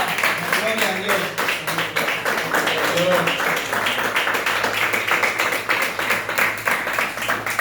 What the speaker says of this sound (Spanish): Démosle una fuerte ofrenda de aplauso al Señor.